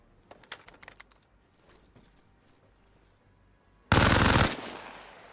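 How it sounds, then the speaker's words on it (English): A custom-built gun in ArmA Reforger fires an 11-round salvo as a single loud, dense burst of about half a second, then a decaying tail. A few faint clicks come before the burst. "it is shooting off 11 rounds at once"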